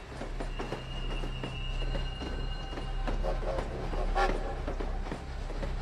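An unusual railway wagon rolls along German railways toward the Baltic coast, giving a steady rumbling clatter of wheels on track with faint squeals, loud and continuous, no voices.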